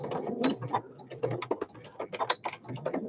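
Sewing machine stitching the side seam of a toiletry gift bag, a close, busy mechanical clatter of needle and gears running in short uneven bursts.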